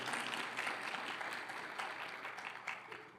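Applause from the audience at an awards luncheon in Memphis, a short burst of dense clapping that tapers off slightly toward the end.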